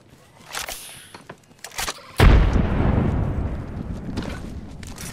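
A frag grenade bursts in Apex Legends with a sudden heavy boom and a long rumbling decay, preceded by scattered clicks and light gunfire sounds.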